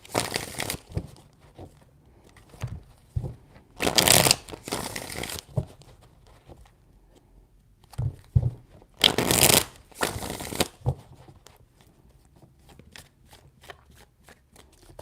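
Tarot cards shuffled by hand in several bursts, two longer riffling runs standing out among softer shuffling and handling sounds, close and fairly quiet with no talk.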